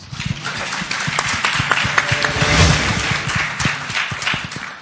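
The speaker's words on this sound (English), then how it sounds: "I think that deserves a big round of applause" A business tourism conference audience breaks into applause, a dense, steady wash of many hands clapping at close range with scattered louder claps and little speech.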